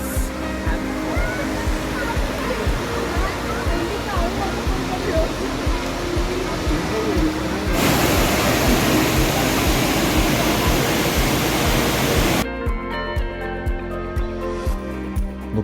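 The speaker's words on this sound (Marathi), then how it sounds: "And here it is, the long POV of Abbey Falls." Abbey Falls in Coorg, swollen after recent rain, roars as a steady, loud wall of rushing water that stays dense throughout, with the character shifting partway as the view moves.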